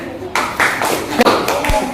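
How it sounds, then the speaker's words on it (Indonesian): Brief burst of classroom clapping as students applaud a classmate, a few quick claps rising over chatter and voices, fairly close and moderately loud. "Tepuk tangan dulu temannya."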